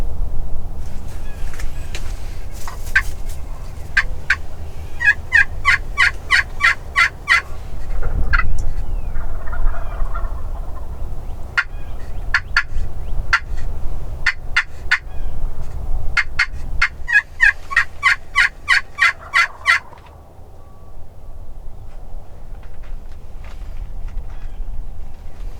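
Wild turkey gobblers in the field sound off in repeated loud bursts of rattling gobbles, clustered volleys separated by pauses, with faint rustling and quiet background between calls.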